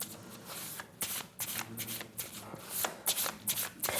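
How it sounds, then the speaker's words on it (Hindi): Tarot cards being shuffled by hand, a steady run of close, crisp riffling and flicking bursts with a faint room hum beneath. "मैं देखती हूँ आपके लिए और कार्ड निकालने की कोशिश करती हूँ।"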